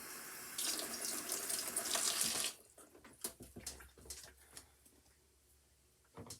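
A kitchen tap runs loudly onto a bell pepper being rinsed for a shrimp stir fry, then shuts off after about two seconds, leaving quieter scattered handling knocks and a brief splash near the end.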